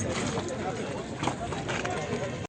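Big horses at the Sokuluk livestock market near Bishkek clip-clop on hard ground in an irregular patter, mixed into a busy outdoor din of crowd voices and talk.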